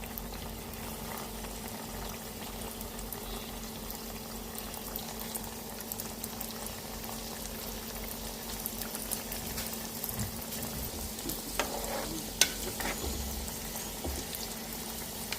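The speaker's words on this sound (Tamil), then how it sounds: "இப்போ எண்ணெய் நல்லா ஹீட் ஆகிட்டு இப்போ ஒன்று ஒன்றா இதை போட்டு பொரிச்சு எடுத்துக்க போகிறோம்." Egg puffs deep-frying in hot oil over a slow flame, a steady soft bubbling and crackle running evenly throughout, with one brief sharper pop near the end.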